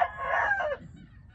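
A Thai-American fighting hen gives one loud, close crowing call, falling away after under a second into quiet background.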